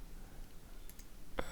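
A single quiet computer mouse click comes near the end of a near-silent stretch, preceded by faint soft ticks.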